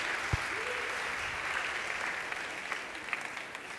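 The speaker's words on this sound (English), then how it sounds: "Big round of applause, please." An audience at an energy and industry startup competition claps after a pitch, a dense steady patter of applause at moderate level that slowly thins out toward the end.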